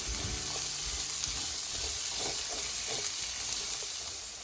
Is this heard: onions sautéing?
yes